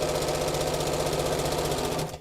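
A sewing machine runs at a steady fast stitch along the raw edges of a fat-quarter tote bag, loud and close with a rapid even rhythm, then stops abruptly at the end.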